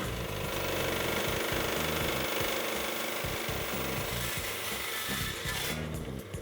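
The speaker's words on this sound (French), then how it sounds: "la première étape, ça va tout simplement de scier le caillou." A saw cutting through a stone to shape a cabochon, a loud, continuous grinding roar with a rapid juddering pulse, steady for several seconds before easing slightly at the end.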